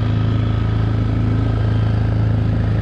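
A motorboat engine runs steadily on a reservoir while fishing for catfish, a loud, close, continuous low drone with no break in level.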